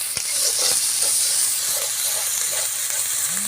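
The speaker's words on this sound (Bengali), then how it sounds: "মশলাটা সুন্দর করে ভাজা ভাজা করে নেব, যাতে পেঁয়াজ রসুনের যে একটা উগ্র গন্ধ ওটা যাতে চলে যায়" Spices sizzling and frying in hot oil with onion and garlic, a steady close hiss with faint stirring clicks throughout, no voices.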